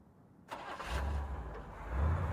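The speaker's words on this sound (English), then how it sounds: "Then a car starting." A car engine cranks and catches in a radio drama sound effect, then settles into a steady mid-pitched idle with a slight rev near the end, close and clear with no talk.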